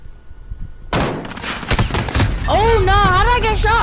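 Gunfire in Modern Warfare hardpoint bursts in abruptly after a quiet start, a rapid string of loud close shots, followed by a player talking over the continuing game noise.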